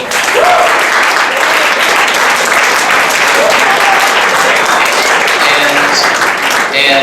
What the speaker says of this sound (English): a round of applause to all of our dates for being absolutely wonderful.